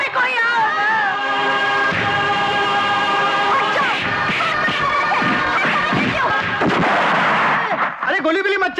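Gunfire in a Hindi film scene amid a crowd, loud and continuous with sharp bursts over dense commotion and shouting voices throughout.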